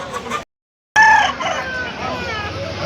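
A rooster crows once at a busy Sunday country chicken market in Peeleru, the call rising clear and close after a brief silence, over a steady bed of crowd chatter and market noise.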